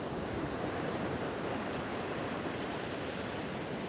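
Steady wind and ocean waves make a broad, unbroken roar of surf and gusting air, loud and close, with no voices.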